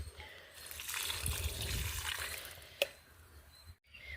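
Liquid is poured onto a rose plant during hot summer weather, making a soft close trickle and splatter for about two seconds that fades, followed by a brief click.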